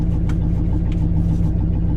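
Lincoln Continental engine idling slightly high, a steady low-pitched rumble with an even pulse throughout, close and continuous with no voices.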